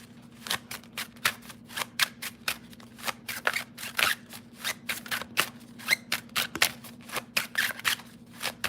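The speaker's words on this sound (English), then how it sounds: "Let me pull one card for those who are in a marriage." Tarot cards being shuffled and one pulled for a reading: a steady run of crisp, rapid riffling snaps and flicks close to the mic, with a faint low hum underneath and no talking.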